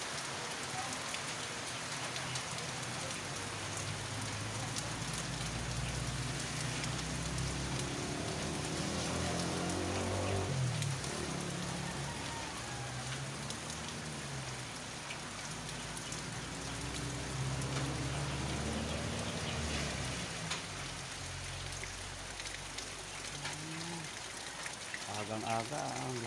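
Heavy early-morning rain pouring down steadily on a flooding area with no drainage, a dense continuous hiss with people talking underneath throughout.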